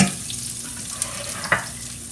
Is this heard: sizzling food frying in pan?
yes